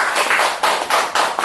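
Audience members at a lecture clap in a few loud, distinct bursts, a small group of hands striking in an uneven rhythm at close range.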